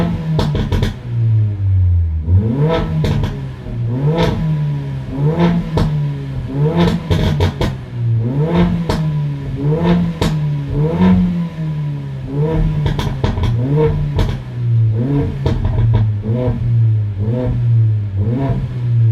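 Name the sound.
Mercedes CLA 45 AMG engine revving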